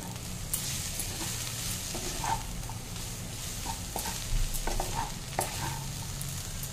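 Veg chowmein being tossed and mixed in a hot pan, with continuous sizzling and repeated scraping strokes of a spatula at close range, steady and fairly loud, with no voices.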